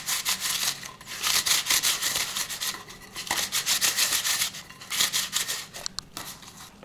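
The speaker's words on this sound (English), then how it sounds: "I'm going to take the butter paper, this was the excess butter paper, and just wipe in the mold here" Butter paper is rubbed and wiped around the inside of a cake mold, giving close, dry, scratchy swishing strokes in repeated bursts with brief pauses between them.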